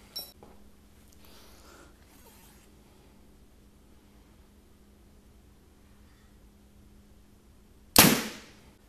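A single arrow is loosed from a bow through a sheet of paper at ten feet, landing as one sharp, loud snap near the end after a long stretch of quiet room hiss.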